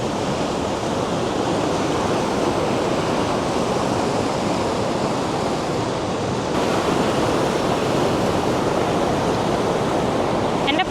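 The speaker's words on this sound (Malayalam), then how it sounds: "ഈ വെള്ളത്തിൻ്റെ ഒച്ചപ്പാടിൽ ഞാൻ പറയുന്ന വല്ലതും കേൾക്കാവോന്ന് എനിക്കറിയില്ല" A shallow, clear stream flows beside a hiking trail on the Trans Canada Trail, a loud, close, continuous rush of water with no pauses and no audible talk.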